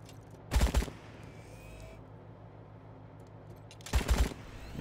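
Enemy gunfire in the combat game Wasteland 3, two separate short bursts of loud, rapid shots about three seconds apart, with a quiet, hushed pause between them.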